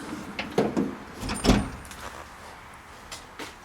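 Metal tool box drawer sliding shut in a garage workshop, a couple of rattling clunks building to one firm slam mid-clip, then faint knocks of tools settling.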